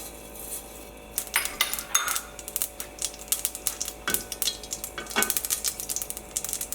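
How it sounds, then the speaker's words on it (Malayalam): Mustard seeds splutter and pop in hot coconut oil in a home kitchen pan, giving irregular bursts of crackling with a few metal utensil clinks, fairly close and without talk. "ഫസ്റ്റ് നമുക്ക് കടുക് പൊട്ടിക്കാം"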